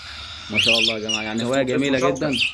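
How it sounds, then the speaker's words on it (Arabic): Cockatiels chirp in bright, high bursts while someone speaks clearly over them; the birds sit near and stay mostly beneath his steady voice for the whole stretch. "ده عصافير الكوكتيل"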